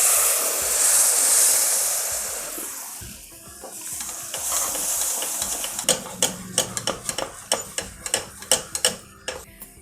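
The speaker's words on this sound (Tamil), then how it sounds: "இது கொதிக்கிற இந்த வெள்ளை தண்ணியை இதில் விட்டுடலாம்." Boiling water is poured into roasted rava wheat halwa made with country sugar. A soft hiss rises and fades, then a run of quick, sharp ticking and stirring clicks follows close by.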